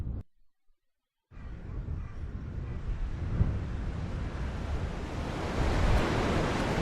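Steady rushing surf of sea waves in the video game The Last Door, a broad continuous wash that swells slightly louder toward the end after a brief silent gap at the start.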